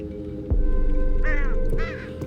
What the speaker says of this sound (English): Dumb bird.